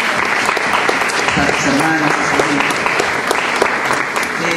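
An audience at a documentary screening and discussion applauds the family of Héctor with loud, sustained clapping throughout, while a voice speaks briefly over it.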